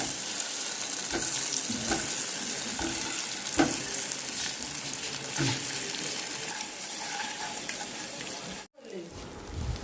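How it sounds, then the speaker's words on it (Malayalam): Boiled eggs frying in oil in a pan, a steady close sizzle with occasional stirring clicks throughout, and a brief break in the sound near the end. "സവാള വേകുന്ന സമയം കൊണ്ട് നമുക്ക് അവിച്ച മുട്ടയൊന്ന് ഫ്രൈ ചെയ്തെടുക്കാം."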